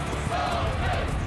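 Cartoon crowd of soccer fans cheering in a packed stadium, a steady continuous roar held at an even level throughout.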